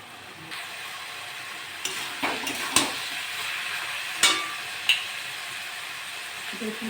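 Ridge gourd with prawns, salt and turmeric fries slowly in a pan with a soft, continuous sizzle, broken by several sharp utensil clacks and scrapes against the pan, heard up close without speech.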